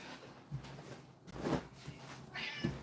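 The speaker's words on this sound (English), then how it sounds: "Meow. What? What do you want?" A cat meows a few times indoors during a home sewing session, short faint calls spread over a few seconds against a quiet background.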